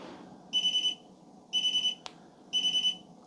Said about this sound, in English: Oh, the alarm went off and then it cut out.